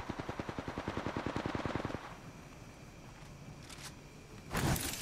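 Gunfire in the Apex Legends video game: a loud, rapid automatic burst for about two seconds, then quieter distant shots and a sharp blast near the end.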